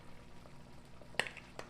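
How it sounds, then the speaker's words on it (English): A pot of beef mixture with salt and pepper bubbles on a home stove, with soft popping and a couple of sharper spits over a low simmering hiss. "it's already bubbling on me"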